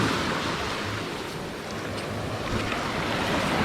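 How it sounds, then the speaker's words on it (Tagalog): Strong waves surge against large rocks along the coast of Patitinan White Beach in Sagnay, Camarines Sur, at high tide. They make a steady, loud roar of surf with wind buffeting the microphone throughout. "ang lalakas ng alon dito"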